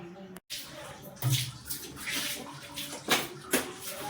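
Water splashes and gushes across a hard floor in uneven bursts, close by, as a kitchen is washed down, with a brief dropout near the start.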